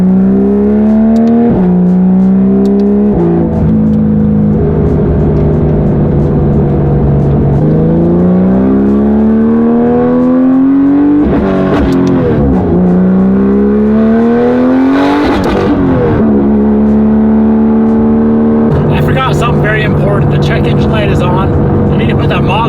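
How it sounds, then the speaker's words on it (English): A Porsche 911 GT3 RS with a modified exhaust roars very loud through repeated hard accelerations, the pitch climbing and dropping with each gear change, harsh and close, with someone talking over it. "That is definitely the loudest car I've ever heard in my life."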